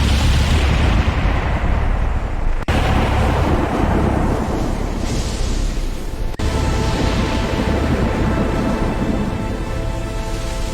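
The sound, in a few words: thunderstorm with lightning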